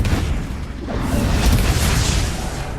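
A Confringo fire spell explodes in Hogwarts Legacy, a loud deep boom with rumbling, crackling debris filling the whole stretch, a sharper burst near the middle, no voices over it.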